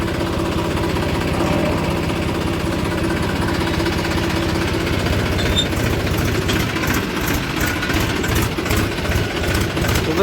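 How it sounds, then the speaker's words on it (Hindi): A tractor engine runs steadily and loudly throughout as it is driven out from a rural farmyard, with a dense, rumbling low chug and some rattling toward the end. "बड़े प्यार से निकालते हैं यहाँ से ट्रैक्टर को।"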